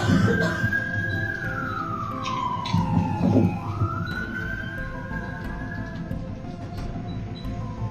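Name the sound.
police sirens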